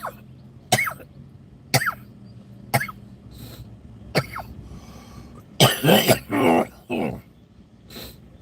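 A person coughs in several sharp, separate bursts spread across the stretch, with a closer cluster of harsher coughs and throat-clearing near the end, loud and close against a quiet room.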